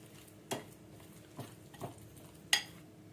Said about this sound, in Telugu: ఇలా థిక్ పేస్ట్ లాగా దీన్ని కలుపుకుందాం.